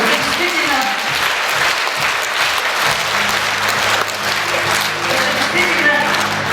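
Steady audience applause at a Khakass song awards ceremony, honoring an opera production, with a musical fanfare sounding beneath the clapping.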